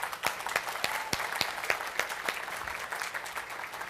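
Audience applause at a live startup pitch event, a dense steady wash of many hands clapping with sharp individual claps standing out, close and continuous throughout.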